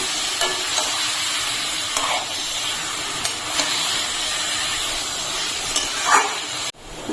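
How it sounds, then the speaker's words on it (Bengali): Mutton with ground spice paste and a splash of water sizzles steadily in a pan while being stirred and scraped, the frying hiss continuous and close with a few louder clatters. "মশলা বাটিয়ে দিয়ে একটু জল দিয়ে দিলাম। এখন আমি ভালো করে কষিয়ে নেব।"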